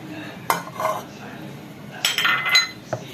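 Pabda fish being mixed by hand with ginger-garlic paste, turmeric, chili and cumin powders, salt and oil in a bowl, with soft wet squelching broken by a few sharp clinks against the bowl.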